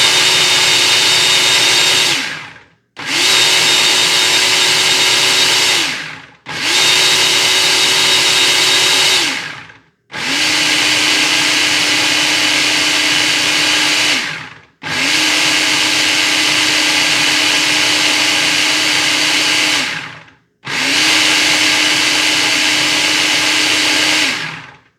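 Countertop blender pulsing homemade red salsa, six loud whirring bursts of roughly two to five seconds each with brief silent gaps between them, up close with no talking.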